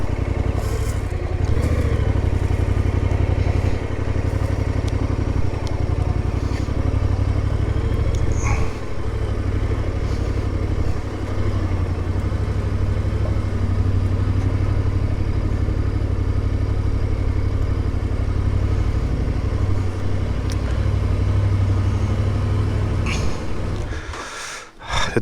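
A motorcycle engine on a motorbike tour rumbles steadily at low speed as the rider rolls up, a loud close continuous drone with slight variations, then briefly cutting toward the end.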